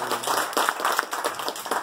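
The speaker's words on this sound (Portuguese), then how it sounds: "Aplaude esse Deus maravilhoso" A church congregation claps in praise, a short burst of distinct, fairly close hand claps falling in a loose rhythm over a little under two seconds.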